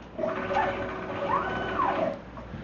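A CNC router moves into position while making a Longworth chuck, its stepper motors giving a steady whine that rises and falls in pitch as the gantry travels, fairly close and alone.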